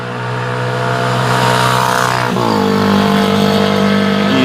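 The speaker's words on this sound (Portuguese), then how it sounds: "isso também faz parte do campo unificado, né, o barulho da moto." A motorcycle passes outside, its engine swelling from a low rumble into a loud, close, steady drone with a falling pitch shift midway as it goes by; nobody speaks.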